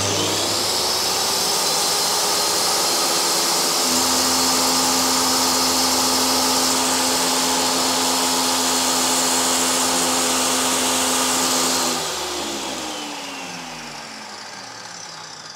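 An ALDO TBS-157 dust-free table saw running indoors, a loud steady motor whine with a dense whirring hiss, its pitch rising slightly then winding down and fading toward the end, with no talk.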